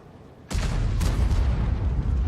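An M12 self-propelled artillery gun fires in World of Tanks, one sudden loud boom followed by a second blast about half a second later, with rumbling reverberation sustained to the end.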